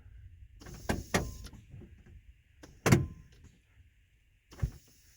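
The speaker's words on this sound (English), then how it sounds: "you can lock and unlock the doors a couple times" Vacuum door locks on a 1968 Ford full-size car clunk several times in sharp, close mechanical thumps spread across a few seconds, with quiet gaps between.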